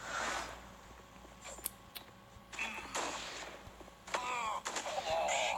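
Sniper rifle shots ring out in a first-person shooter video game, a few sharp cracks spaced apart amid game sound effects, with no talk.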